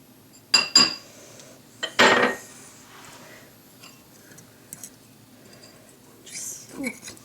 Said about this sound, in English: Just whisk it all together, get the clumps out